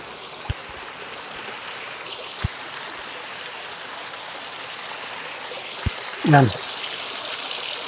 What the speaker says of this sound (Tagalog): Bukal na malakas yung agos.